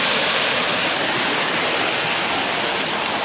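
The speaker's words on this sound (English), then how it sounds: "So I'm starting off at this small waterfall." Small waterfall at Roche Abbey near Maltby, Rotherham, England: a steady, loud broadband rush of falling water that continues without a break and with no voices.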